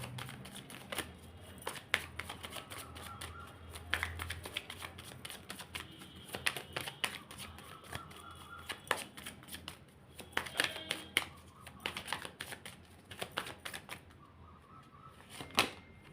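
A deck of tarot cards is shuffled repeatedly at close range, making crisp riffling bursts and soft slaps in an uneven rhythm with brief pauses, mostly alone without talk.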